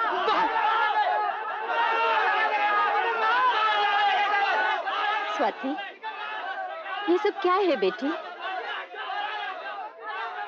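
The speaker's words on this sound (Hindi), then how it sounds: "दरवाजा पे ये भीड़ अच्छी लगती है तुझे?" A crowd gathers at a doorway in a 1986 Hindi film scene, with dense overlapping chatter and raised voices running steadily throughout. Someone speaks over the crowd, which thins briefly in the middle before swelling again.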